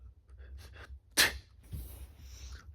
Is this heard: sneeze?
yes